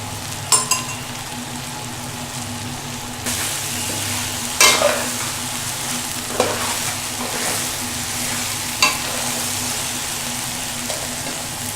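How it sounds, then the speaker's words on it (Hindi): Hyderabadi mathi daal with cream frying and being stirred in a pot, a steady close sizzle broken by occasional scraping strokes of the spoon, with no voices. "अब मैं इसमें थोड़ी सी भुनाई करके क्रीम मिक्स कर दूंगी"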